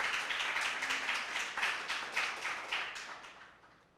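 Audience applause for participants in a secondary-school impromptu speaking competition, a steady wash of many hands clapping that swells in rhythmic waves and then slowly fades out over a few seconds, with no talking.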